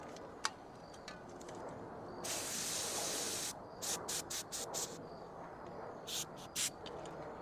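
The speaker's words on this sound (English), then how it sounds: "I'm going to use a little bit of brake cleaner here and just a standard towel." Short hissing bursts of brake cleaner spray onto a towel, one long blast followed by several quick puffs, fairly quiet against background hiss.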